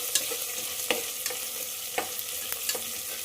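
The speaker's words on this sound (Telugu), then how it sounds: "ఈ అల్లం వెల్లుల్లి పేస్ట్ ఆయిల్లో పడగానే తిరుపతిలో ఆడుతూ ఉంటుంది" Ginger-garlic paste sizzles and spits in hot oil with onions, a steady crackling hiss broken by sharp pops and light stirring scrapes, close and fairly quiet.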